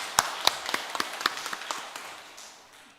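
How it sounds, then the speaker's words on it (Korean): A church congregation applauds its pastor during a Sunday worship service with scattered, sharp claps that thin out and fade within a few seconds. "우리가 박수 한번 치겠습니다"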